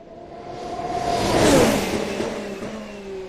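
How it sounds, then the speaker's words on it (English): A Ferrari Formula 1 car races past at speed during testing at Barcelona, its engine note rising as it approaches, peaking loud and close, then sweeping away with a falling pitch. "Here comes the Ferrari."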